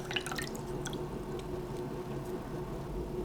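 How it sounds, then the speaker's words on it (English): Water runs and drips steadily while dyed fabric is rinsed out, with a few sharper splashes and drips near the start over a constant low wash. "Rinse that out."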